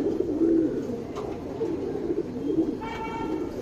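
Pigeons kept for training coo close by in a soft, continuous low warble, with a few faint chirps near the end.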